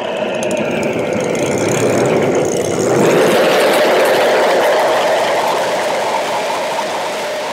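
Homemade jet engine running steadily with a loud, continuous roar and hiss that swells louder around the middle and holds, with no talking.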